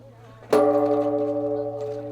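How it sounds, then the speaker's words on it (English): A single deep Japanese bonsho temple bell in a garden struck once, sharp attack then a long sustained ringing hum that slowly fades, heard alone. "That is the sound of the Japanese Bansho bell at eNEWSFeb28 Gardens."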